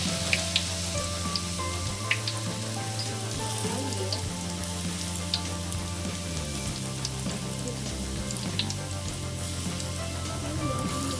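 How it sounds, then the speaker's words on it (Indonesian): Peanut cracker batter sizzles loudly in hot oil in a wok, poured near the wok's edge, a constant crackling hiss with occasional sharper pops, close up and without speech. "khusus untuk menggoreng tuh aku tuangnya mendekati tepi wajan."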